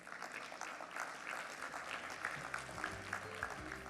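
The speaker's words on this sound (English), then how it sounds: "A round of applause for them, please." Audience applause for panelists at a conference on climate and development finance, fairly quiet scattered clapping with faint speech and low tones underneath.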